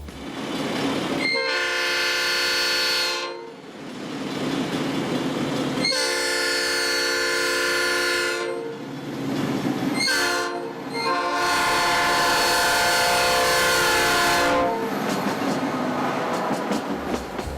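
An EMD F40C commuter locomotive sounds its Nathan P5A horn in several loud chords, two long and two shorter, over rumbling train noise. Brief gaps fall between the blasts.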